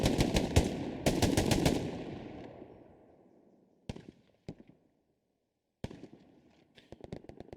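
Gunfire in a Hell Let Loose firefight: a dense burst of rapid automatic shots that tails off into reverb, then isolated single shots and another quick volley, moderately distant and loud.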